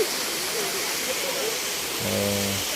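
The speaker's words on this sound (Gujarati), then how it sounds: "ઉપર કે કંઈ આ રીતનો ધોધ પડે છે" The multi-tiered waterfall at Pavagadh pours steadily, a dense continuous roar of falling water with a brief tonal whistle-like sound near the end and faint voices in the background.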